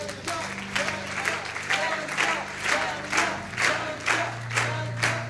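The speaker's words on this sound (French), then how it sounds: "On peut l'applaudir, Henriette" Crowd applause at a church service for a woman invited up to join the pastor, rhythmic clapping in bursts over a sustained musical tone, with voices calling out through it.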